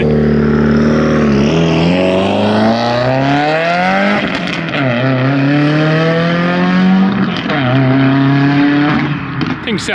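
A big-turbo Chevrolet Camaro at a car meet revs hard and loud, its engine note climbing and falling in repeated sweeping pulls with popping bursts, close by and continuous, with no talk over it.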